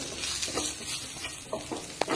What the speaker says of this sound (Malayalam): ഇത് നന്നായിട്ടൊന്ന് വഴറ്റി കൊടുത്ത് അതിൻ്റെ പച്ചമണം മാറുന്ന വരെ ഒന്ന് വഴറ്റി കൊടുക്കുക